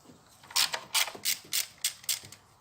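Rapid ratchet clicks as a wrench loosens a screw on the air intake housing of a Peugeot 308, arriving in quick, evenly spaced strokes, close and fairly quiet.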